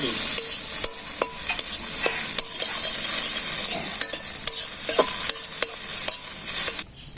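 Food stir-fried in a pan in a village kitchen, a steady oily sizzle with repeated sharp scrapes and clacks of a utensil against the pan at an irregular rhythm, close and fairly loud, with no talking.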